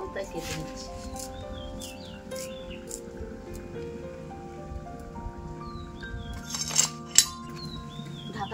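A lid goes onto a cooking pot in a home kitchen, giving a couple of sharp metallic clinks near the end, with someone speaking over soft background kitchen sounds and birdsong.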